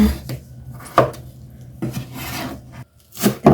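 A knife cutting peeled taro into bite-sized pieces on a board. Several separate, crisp rasping strokes, each ending in a light knock, close and clear with short pauses between.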